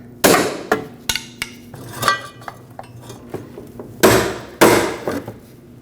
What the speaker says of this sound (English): a trick is to put a pry bar up against it and then hammer the pry bar.